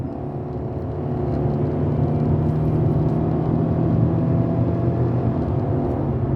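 Under full throttle, a car with a modern CVT holds a loud, steady engine drone and low rumble that swells slightly and stays constant, heard from inside in traffic with no talk.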